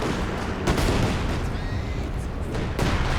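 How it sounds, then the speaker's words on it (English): Mortar and artillery fire from the forward observation post in Company of Heroes 2, a 4v4 match, heard as a steady rumbling barrage with a few sharper blasts at about 0.7 and 2.8 seconds. "Oh, it is mortar cover."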